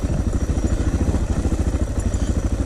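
A Suzuki DR650 carbureted single-cylinder motorcycle engine runs close by with a quick, even thumping pulse and a mechanical clatter, loud and alone.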